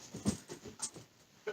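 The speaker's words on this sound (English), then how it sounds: "There's dog." A dog whimpers indoors in a few soft, brief whines spread across the moment, fairly close but quiet, with no talking over it.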